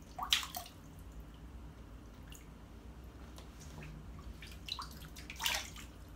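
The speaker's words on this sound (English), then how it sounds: "I've got a cup to grab some water and I'll splash it on the black area." Water from a cup is splashed onto the black fabric of an XD Design Bobby backpack: a short splash near the start, quiet dripping in between, and another splash toward the end, all close and fairly faint.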